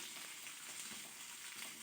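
Okra frying in a pan with a steady, dense sizzle, close but fairly soft, continuous without pauses and with no voices.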